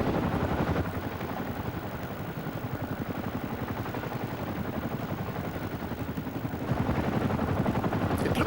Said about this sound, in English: What it actually is a Boeing Chinook HC-1 of number 240 Operational Conversion Unit at Odium in Hampshire.